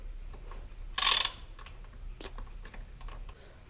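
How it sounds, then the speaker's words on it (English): A 10mm socket ratchet works on the bolts of an air intake cover on a Toyota Tacoma, giving soft close clicking and a brief louder rattling burst, fairly quiet overall. "To take the air ventilation cover off, I'm using 10mm socket."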